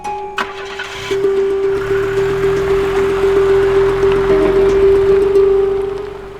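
A car engine cranks and catches, then settles into a steady idle with a rhythmic pulsing rumble as the vehicle pulls away, alone without talk.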